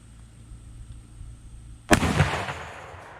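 A single loud gunshot from a handgun fired in a back yard, a sharp close crack about two seconds in that rings out into a short decaying tail over faint outdoor background noise.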